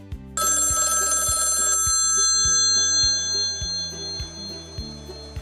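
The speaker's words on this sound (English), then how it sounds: "The family telephone ringing." An old telephone bell rings loudly for over a second, a metallic jangling trill, then stops while a soft steady ticking continues underneath.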